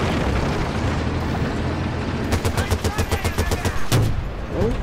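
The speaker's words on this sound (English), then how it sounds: "That explosion was close." Battlefield Bad Company 2 combat with a tank nearby: a dense rumble of game gunfire and a close explosion, followed by rapid rattling bursts of machine-gun fire and a sharp blast near the end.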